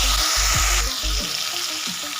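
Spice masala for a katla fish curry fries hard in a pan, a loud steady sizzle broken by a few scraping stirs, with no voices.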